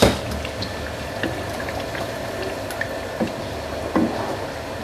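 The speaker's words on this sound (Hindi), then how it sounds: "तो अब इस पॉइंट पे हम इसमें डाल देंगे आधा कप पानी।" Chicken and tomato masala simmers in a pot after half a cup of water is added, soft bubbling and sizzling with a few faint clinks and taps, quiet and steady.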